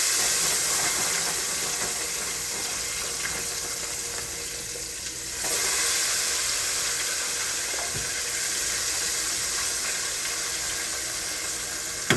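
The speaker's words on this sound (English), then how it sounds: "now I'm gonna fry my French fries" French fries bubble and sizzle in hot oil with a dense, continuous hiss. It holds steady up close for a long stretch, dips briefly partway through, then comes back full, with no talking.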